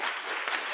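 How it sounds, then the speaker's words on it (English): A church congregation applauds during a worship service, a brief, steady patter of clapping from a crowd indoors. "Applause one?"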